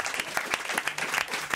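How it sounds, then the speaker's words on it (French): Studio audience at a French television variety show applauds loudly as a guest actor enters, steady dense clapping filling the whole moment with no talk over it. "On l'applaudit encore très fort."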